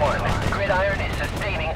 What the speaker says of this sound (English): When artillery shells land across the valley, you actually get the sound delay.